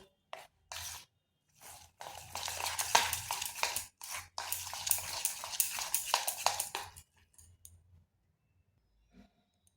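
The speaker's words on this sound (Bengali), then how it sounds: "সব উপকরণ ভালোভাবে মিশিয়ে নিচ্ছি।" A spoon scrapes and stirs semolina batter in a bowl, with bursts of mixing noise starting and stopping, busiest in the middle before trailing off into quiet taps.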